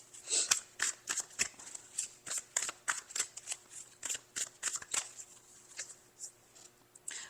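Oracle card deck shuffled close up, a quick run of crisp riffling bursts in an uneven rhythm that slows and fades toward the end, with no voices over it.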